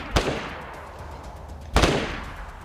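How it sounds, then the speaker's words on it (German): Two sharp gunshots ring out in DayZ, Playstation 4 Pro, in the town of Pavlovo, each a loud crack with a short echoing tail, spaced about a second and a half apart over quiet background. "Auf was schießen die?"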